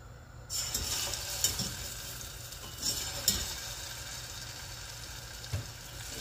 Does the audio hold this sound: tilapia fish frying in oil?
yes